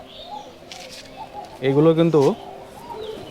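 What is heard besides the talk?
Rajshahi local Giribaj pigeons cooing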